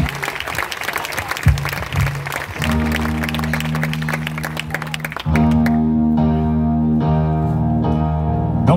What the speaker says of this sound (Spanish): Vamos a recibir con un fuerte aplauso a Andrea Bocelli y Marta Sánchez.